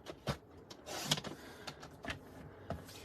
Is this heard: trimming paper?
yes